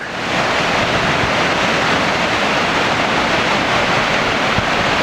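Kapuzbaşı Waterfall in Yahyalı, Kayseri, roars as a steady, dense wash of falling water with wind buffeting the microphone, loud and unbroken throughout.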